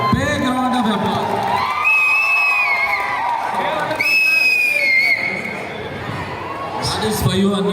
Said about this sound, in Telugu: సో అను కోసం let's all give a big round of applause